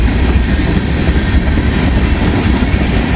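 A freight train of empty, unlabeled tank cars rolls past up close and loud, with a dense, continuous rumble and wheel clatter.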